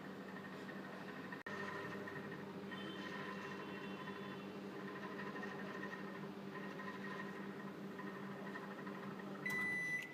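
A microwave oven hums steadily while heating a pizza tart, a continuous even drone running the whole time with a brief dropout early on and a faint beep near the end.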